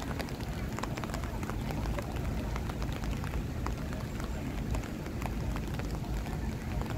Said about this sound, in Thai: เพราะว่ามันเจอฝนนะครับฝนกระหน่ำลงมา